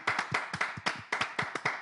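A short run of hand claps from a small audience, about a dozen distinct claps in quick, slightly uneven rhythm, close and fairly clear with no voices.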